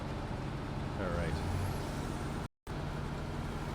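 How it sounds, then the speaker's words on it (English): A deep, rumbling truck engine in the video game SnowRunner drones steadily with a brief hiss of air brakes, interrupted by a short gap of silence. "I also like the sound of this truck, too."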